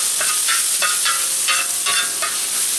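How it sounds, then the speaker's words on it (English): Pork searing in olive oil in a discada cowboy wok for lo mein, a loud, continuous close sizzle broken by repeated scraping stirs. "Let that sear up a little bit."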